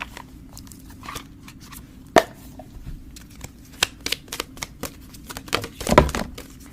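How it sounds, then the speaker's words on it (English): Tarot cards are shuffled and drawn by hand, making soft flicking and snapping rustles in an uneven rhythm, close and quiet, with a sharper slap now and then. "So I'm going to pull a few more cards here."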